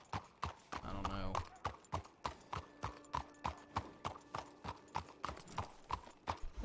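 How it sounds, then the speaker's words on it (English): Horse hooves clip-clopping in the Wild RP video game, a steady run of distinct close hoofbeats with a brief whinny early on and a faint low hum behind. "That's not my horse, but I guess my horse ran away."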